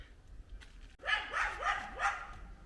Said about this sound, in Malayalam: നീ പിന്നെ എന്തിനാണ് കുരയ്ക്കുന്നത്